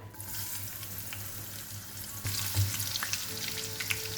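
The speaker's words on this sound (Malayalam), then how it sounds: "അതിലേക്ക് ആദ്യം കുറച്ച് വെളുത്തുള്ളി ചതച്ചതിട്ട് ഫ്രൈ ചെയ്യാം." Crushed garlic fries in hot oil with a soft, steady sizzle that swells slightly midway through. The sound is fairly quiet and close, with no talking.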